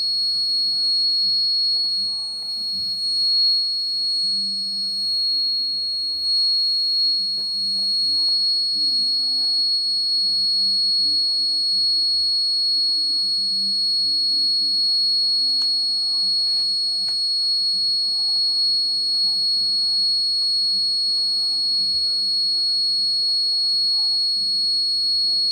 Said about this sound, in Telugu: మళ్ళీ బజర్ అయితే ఆగిపోతుంది